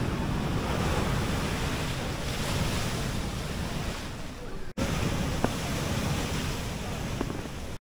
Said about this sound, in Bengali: তোমাদের ঢেউগুলো একবার দেখাই ওল্ড দীঘার এই মুহূর্তে।